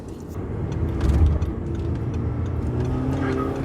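An Audi TT of almost 300 hp pulls hard in fourth gear. The engine drones loudly and steadily from inside the car, rising in a swell about a second in and then holding strong.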